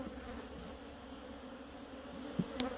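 Honey bees hum steadily in a hive, a dense even drone held close throughout, broken near the end by two brief sharp knocks.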